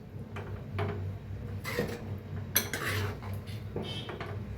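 Chickpea curry is stirred in a pot with coriander leaves mixed in, giving quiet scrapes and a few light metallic knocks of the spoon against the pot, close and without speech.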